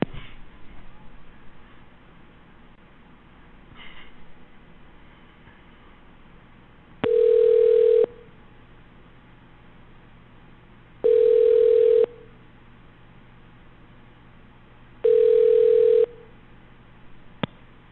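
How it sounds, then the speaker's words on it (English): Telephone line tones while a call connects: three evenly spaced one-second beeps sounding clearly over a faint, narrow-band phone-line hiss. "Please remain on the line while we connect your call."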